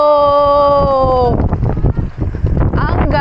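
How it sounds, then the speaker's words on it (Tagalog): Strong wind buffets the microphone on a cycling ride along the Taal loop, a rough low roar and rumble that takes over after a brief exclamation and keeps gusting unevenly to the end. "Kaya pala ang lakas ng hangin."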